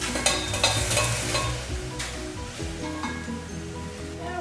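Broccoli tipped into a hot pan with garlic powder, sizzling and frying steadily while being stirred, with scraping and clattering strokes in the first half, all close and fairly loud.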